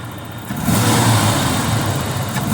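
Car engine revving hard at wide open throttle, a loud, close, sustained roar that swells and holds steady for a couple of seconds.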